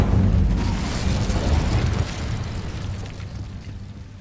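Incendio fire spell cast in Hogwarts Legacy, a loud low booming burst that rumbles and slowly fades over a few seconds.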